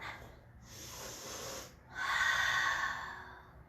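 Two slow, audible breaths during a seated yoga twist, a softer inhale followed by a longer, stronger airy exhale close to the microphone, with no talking.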